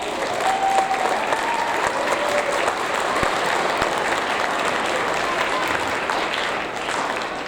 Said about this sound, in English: One more round of applause for all the recipients today.